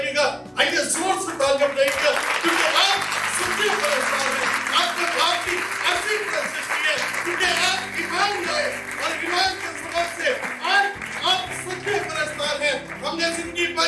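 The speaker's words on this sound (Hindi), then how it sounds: "आइए जोर से तालियां बजाइएगा" A church congregation at a Sunday service breaks into loud, sustained applause, with a voice talking over it and faint chuckles mixed in.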